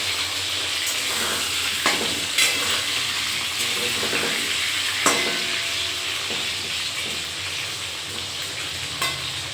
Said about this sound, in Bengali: চলো আলুটা ভেজে নিই আস্তে আস্তে